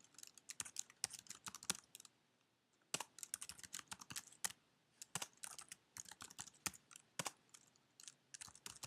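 Fast, irregular keyboard typing while adding vehicle attributes to a dealership website listing. The clicks are crisp and close, come in bursts with short pauses, and sound over a quiet room.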